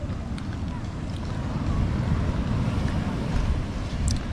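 Strong surf rolls in at a beach in Aurora, a dense, continuous low roar mixed with heavy wind buffeting the microphone. It stays loud and close throughout with no clear breaks between waves.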